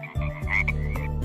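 A frog croaks in quick, rough, buzzing pulses, close and fairly loud, with no voices over it.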